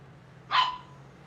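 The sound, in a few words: dog barking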